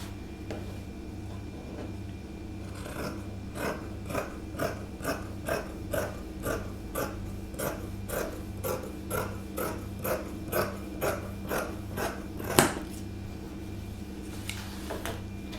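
Scissors snip through fabric while cutting out a jabot collar pattern, giving a long, even series of small, close clicks at a regular pace over a faint steady hum.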